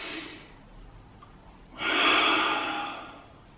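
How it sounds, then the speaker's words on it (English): A deep breath drawn in during a lower-body warmup, a soft exhale first and then a strong, close, airy inhale lasting over a second. "Deep breath in."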